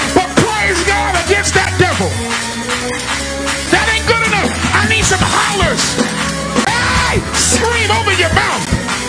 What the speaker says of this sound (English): Do something. Yell. Scream.